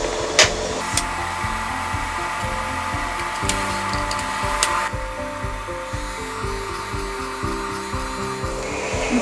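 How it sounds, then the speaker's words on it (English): A UWANT dog hair vacuum runs steadily throughout while a dog is being clipped, its motor drone broken by uneven rubbing and clipper noises close by, with no talking. "as I'm clipping, the hair is going straight into the vacuum and is now right down here."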